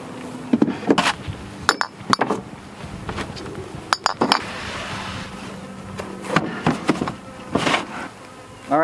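Honey bees buzz around hives in an apiary as they are readied for moving; a continuous near drone runs throughout, broken by sharp clinks and knocks of hive equipment.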